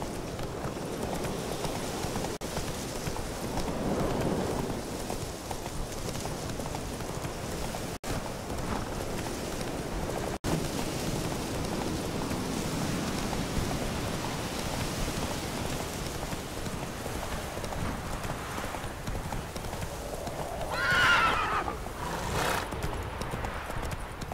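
Roach, a horse in The Witcher 3: Wild Hunt video game, clip-clops along steadily at close range over a rain-like hiss, with a brief neigh near the end and no voices.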